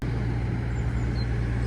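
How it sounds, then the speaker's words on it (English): A big blue and white truck rolls slowly past on a road under construction, a steady low engine rumble and road noise holding evenly throughout, loud and close. "It's a big blue and white truck."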